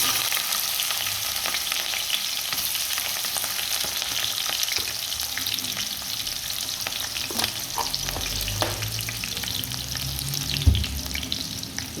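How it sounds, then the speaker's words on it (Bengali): Onions and green chilies frying in hot oil for a potato, eggplant and green tomato dish give a steady, close sizzle throughout, with occasional stirring clinks and a low thump near the end. "পেঁয়াজ কাঁচামরিচ দিয়ে দিচ্ছি।"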